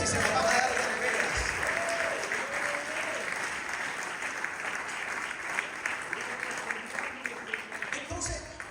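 A church congregation claps together at a Spanish-language service, steady dense applause filling the room at moderate level, with a brief voice breaking through near the end.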